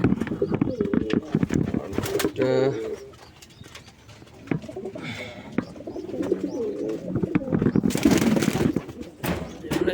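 Pigeons, sky-blue colored pairs kept in a loft, coo intermittently close by over steady background noise, with a person talking at moments throughout.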